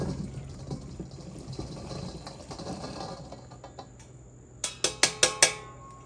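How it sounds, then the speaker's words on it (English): Cooled cooked beans tumbling and sliding out into a bowl, a soft wet rustling mass followed by four sharp clacking knocks near the end, close and without talk. "Now I'm just going to dump the beans that's been cooling in this bowl."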